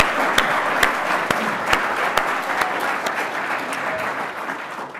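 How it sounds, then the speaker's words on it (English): Steady audience applause at a conference, a dense wash of clapping with a few sharp, distinct claps standing out close by, no talk over it. "Can I just have a round of applause for the guys that have organised this?"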